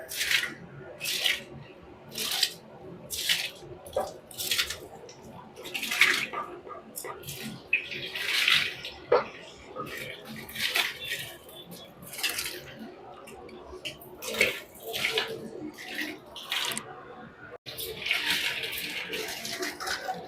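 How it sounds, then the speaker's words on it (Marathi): Basmati rice poured into a pot of hot water for biryani, heard as repeated bursts of splashing and sloshing with quieter dripping between them. "आपल्याला सगळं राईस टाकून घ्यायचंय पाण्यामध्ये"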